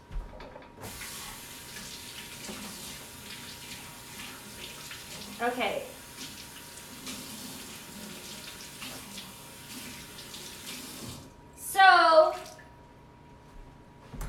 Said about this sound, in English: So I'm just gonna go over here and get the water super fast.